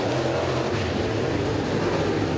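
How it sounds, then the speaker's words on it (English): Super late model race cars roar around the oval at Freedom Motorsports Park during a ULMS heat, a loud, steady engine drone with no break and no talk. "Frank and the 22 of Oaks pull away by a few car lengths here at the front of the field"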